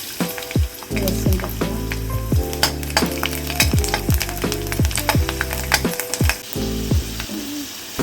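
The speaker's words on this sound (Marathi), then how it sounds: "फोडणी देऊया" Oil heating in a kadhai for tempering while making leftover-rice chivda, with a bright continuous sizzle broken by repeated metallic scrapes and knocks of stirring, close up and loud, no speech.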